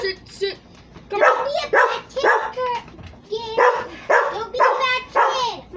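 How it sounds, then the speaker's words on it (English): A dog barks repeatedly at close range, a series of sharp, loud yips and barks spaced about half a second to a second apart, with whimpering tones between them. "My dog is barking heavily."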